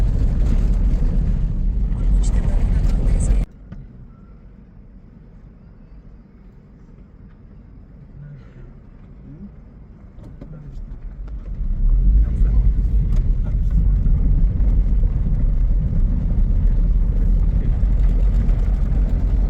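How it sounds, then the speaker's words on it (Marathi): Traffic on a Prague street with tram tracks: a loud rumbling pass at the start, a quieter lull, then a heavy vehicle rumble building and holding close, under people talking. "समोरून ट्राम आले."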